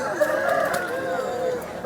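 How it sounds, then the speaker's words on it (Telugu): A young rooster under a year old, about 2 kg, crows once at a Vijayawada poultry market, a wavering call lasting over a second amid market background noise. "సంవత్సరం లోపు వయసు కలిగినటువంటి కోడి పుంజ ఇది"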